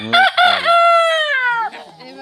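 A rooster crows nearby, loud and clear, with a long drawn-out call that trails off at the end.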